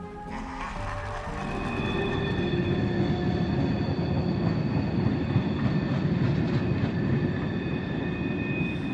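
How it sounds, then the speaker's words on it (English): A train in cold, still air in Winnipeg, Canada rolls past with a loud, steady rumble and rhythmic clacking of wheels on rails, with faint high squealing tones running over the constant roar. "Do you hear that train clacking along the tracks?"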